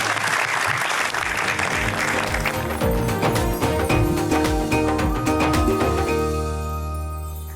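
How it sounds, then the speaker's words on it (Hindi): An audience claps steadily and loudly at an Eid-ul-Adha special stage show, with tuneful music playing over it. The clapping fades gently toward the end, and no one speaks. "जो तालियां बजाइए जी"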